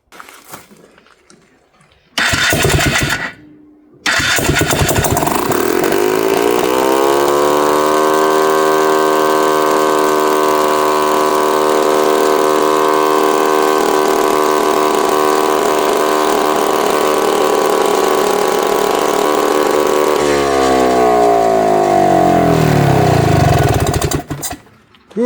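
A small engine with a newly fitted piston runs during a piston ring break-in, sputtering briefly before settling into a loud, sustained drone that rises in pitch and holds steady, then drops and revs near the end.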